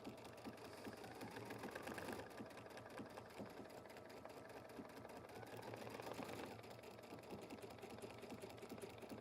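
A Baby Lock Radiance sewing machine stitches a buttonhole in a rapid, steady mechanical chatter, running continuously with slight shifts in pace and no talking.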